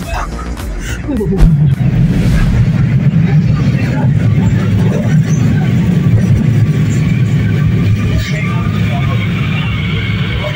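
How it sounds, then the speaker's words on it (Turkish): A loud, sustained rumble of a test train rolling past a station on the İzmir–Torbalı line fills the whole stretch, with rattling and clanking over a deep continuous roar; brief voices at the start. "Test treniymiş."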